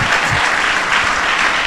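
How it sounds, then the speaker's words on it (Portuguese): A church congregation at a theology conference applauds loudly and hard, a short, close, dense burst of clapping that stays at full strength throughout. "eu gostaria que você aplaudisse ao Senhor bem forte"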